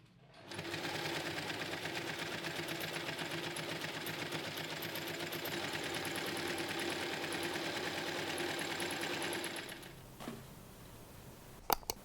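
A sewing machine runs steadily for about nine seconds while stitching down both sides of a lined Cora tote bag, then stops, leaving a few faint clicks.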